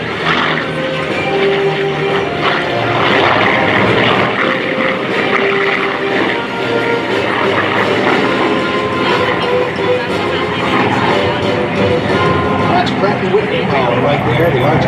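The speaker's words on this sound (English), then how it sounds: "the distinctive growl of that huge radial engine" A Korean War–era F4U Corsair with an 18-cylinder R2800 radial engine of 2,650 horsepower flies at a naval air station air show, its loud, steady drone and growl filling the air without a break.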